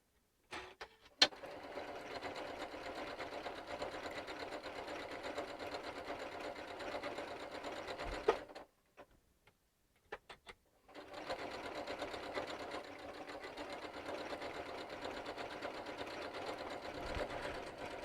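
Sewing machine running an applique blanket stitch on fabric, a steady close mechanical whir with a short stop in the middle before it starts again, no talk.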